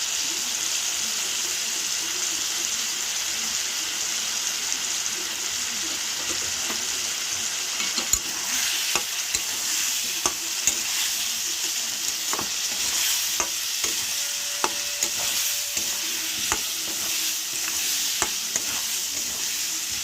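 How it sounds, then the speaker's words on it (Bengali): Ground spices with turmeric, cumin and chili powder sizzle steadily as they fry in a pan for a jackfruit curry, with scattered scrapes and taps of stirring throughout. "এবার ভালো করে আমি মশলাটা কষিয়ে নেবো।"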